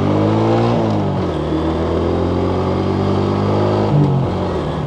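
Suzuki Shogun SP motorcycle engine revving up and down loudly and close, its pitch climbing and falling through several throttle pulls with a steady harmonic drone, no voices.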